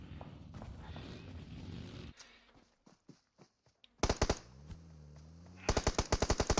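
Gunfire in a competitive online match: a steady stream of shots, then scattered footstep-like taps and quiet pauses, followed by loud, rapid bursts of automatic fire and a second sharp volley near the end.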